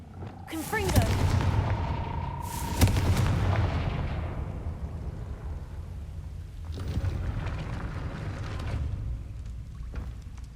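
A fiery Confringo spell explosion in the Hogwarts Legacy video game: two sharp, loud blasts with a rumbling roar trailing off, then another rumble later.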